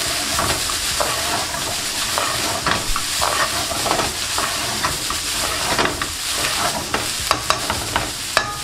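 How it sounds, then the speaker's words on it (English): Ground beef and spices frying over raised heat for nachos, with a dense, loud sizzle and constant stirring scrapes, plus a few sharp clicks of the utensil near the end, heard up close with no talking. "you want to fry this off for a few minutes and then we're going to turn off the heat"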